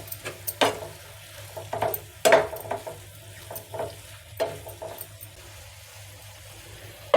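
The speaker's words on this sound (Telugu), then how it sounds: "మూత పెట్టి ఒక రెండు నిమిషాలు ఫ్రై చేసుకుందాము" Chicken momos frying in a covered pan: scattered crackles and soft pops at irregular intervals over a low hum, fairly faint and close.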